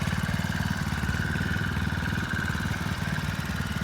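A 4-stroke 49cc engine on a motorized bicycle runs at a steady idle with an even, rapid putter that stays loud and close the whole time, with no voices.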